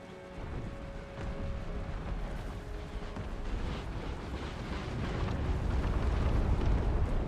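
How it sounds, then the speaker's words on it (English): Organ guns firing in Empire: Total War, a booming, rumbling barrage of volleys that builds steadily louder over several seconds amid continuous battle noise. "you guys are a good organ gun target"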